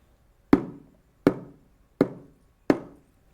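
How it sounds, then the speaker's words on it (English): A drum is struck four times at a slow, even pace in a classroom listening lesson. Each hit is a sharp, close thump that fades quickly into silence, with no voices in between. "you could hear the drum"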